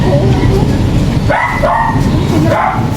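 Young puppies yipping and whimpering close by, high thin cries over loud rumbling background noise.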